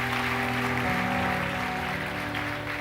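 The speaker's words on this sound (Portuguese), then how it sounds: "Dê o melhor aplauso que você pode dar a Deus." Applause from a church congregation during an evening service, steady broadband clapping with sustained tonal music or organ-like hum underneath throughout.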